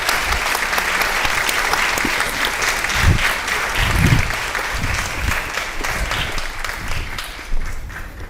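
Audience applause at the Charleston Literary Festival, sustained clapping from a room full of people, dense and steady with a few louder nearby claps and light cheers mixed in.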